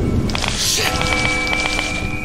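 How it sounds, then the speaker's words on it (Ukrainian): Steady rain with distant rumbling thunder in the video game Shame Legacy, a dense continuous wash with scattered drop patters and a faint tonal hum underneath, no talking. "Дощ іде, гримить, все спокійно."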